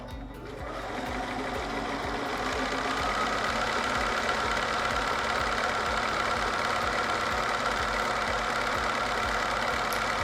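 A Bernina sewing machine with a circular embroidery attachment runs steadily at close range, its rapid needle chatter and motor hum continuous and fairly loud for the whole stretch, with no talking.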